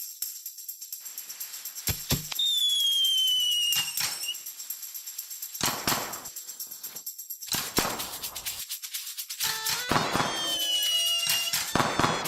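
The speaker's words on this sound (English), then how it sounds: "the first year it was kind of cool to have all the fireworks, the Mascleta in the town square" Mascletà fireworks at Las Fallas in a Valencia, Spain town square, with a rapid series of sharp firecracker bangs and booms, whistling rockets and crackling bursts coming in dense clusters, loud and continuous, with no speech.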